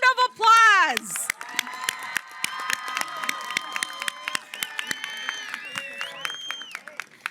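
A crowd at a high school commencement ceremony applauds the graduating students, with dense clapping and scattered cheers sustained for several seconds after a single voice speaks at the start.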